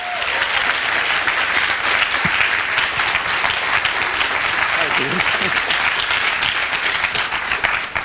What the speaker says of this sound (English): So please give them a round of applause for their hard work.